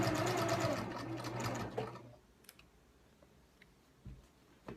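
A sewing machine runs a 3/8-inch seam on a tote bag in a short close burst of rapid stitching, then stops and leaves faint ticks and clicks.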